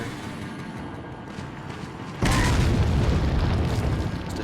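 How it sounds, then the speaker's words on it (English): A grenade bursts in Resident Evil 4 with a single loud, sudden boom partway through, after a quieter stretch of background ambience, the blast then rumbling and decaying across the remaining seconds. "Let's just toss this grenade over here."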